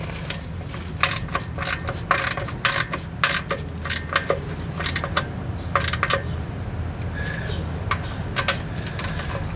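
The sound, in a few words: tightening a bolt into aluminum on a GM transmission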